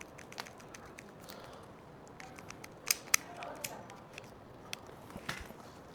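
Scissors snip a small triangle into truck cap canopy material, a few quiet, sharp clicks and cuts scattered over faint room background, close by and soft.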